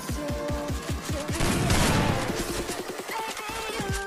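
Rapid bursts of gunfire in a competitive shooting video game tournament, a fast rhythmic string of sharp shots up close with a dense crashing flurry midway, loud and continuous with no talking.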